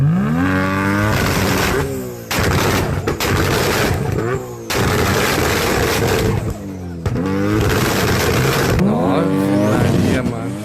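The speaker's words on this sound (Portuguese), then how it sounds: "This next R32 blows rings of smoke when it starts up and for sure makes some car alarms go off" Big-turbo Nissan Skyline R32 with an RB26 engine starting up and revving at a car meet, loud rough bursts with sweeping pitch that rise and drop in repeated blips, separated by short gaps.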